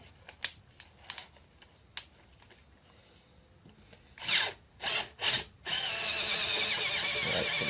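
Electric drill with a freshly sharpened bit boring a hole in metal before tapping, heard as a few short rubbing bursts that give way to a steady, loud, close drilling whine.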